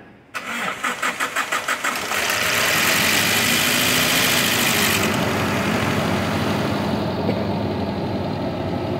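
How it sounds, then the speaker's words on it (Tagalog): A Toyota Hilux pickup engine cranks with several rapid starter pulses, catches, and settles into a loud, steady idle with a noisy mechanical clatter from valve lifters not yet oiled on first start. "maingay sa unang andar kasi yung kanyang valve lifter ay wala pang langis"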